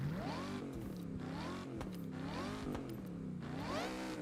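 A supercharged car engine in Forza Horizon revs up and down in smooth rising and falling sweeps, a steady mechanical drone with a continuous whine, fairly quiet and alone with no voices.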